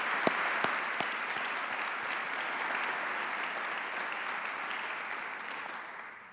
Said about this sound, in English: Let's have a round of applause for Anita.